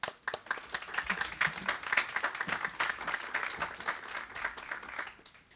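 An audience at a constitutional law conference in Peru claps steadily for several seconds, a dense patter of many hands that swells and then tapers off.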